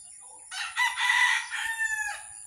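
A backyard rooster crows once, a loud, drawn-out call rising and falling over about two seconds, close by with a faint steady hiss behind it.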